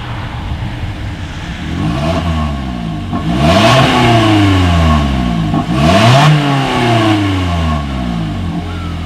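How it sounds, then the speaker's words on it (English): A 2020 Toyota Corolla engine revs repeatedly through the exhaust, pitch sweeping up and dropping in several blips over a steady idle rumble, loud and close with no talking. "here is that exhaust clip"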